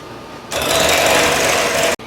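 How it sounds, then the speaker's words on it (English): A hand mixer beats heavy whipping cream, its motor whirring on abruptly, running steady and close for about a second and a half, then switching off. "I'm going to use my hand mixer and start beating it."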